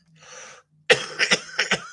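A person coughs several times in quick succession, close and loud, after a brief softer throaty sound and a short pause.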